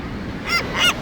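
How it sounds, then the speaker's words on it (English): Seagulls in the video game Deus Ex give two short, loud squawking calls, close and clear, with no other sound behind them. "Seagulls always annoying."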